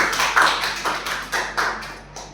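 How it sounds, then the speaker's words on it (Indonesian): Classroom applause for a student after a correct answer, a group of hands clapping close by in uneven rhythmic waves that gradually taper off. "jawaban yang tepat beri aplaus kepada Revo"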